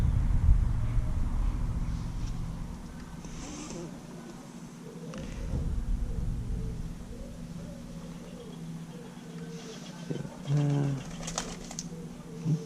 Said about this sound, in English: Sounds like a pigeon has landed in the nearby tree.